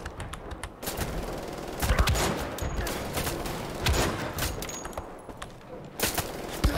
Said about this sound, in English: that guy is gonna keep shooting at me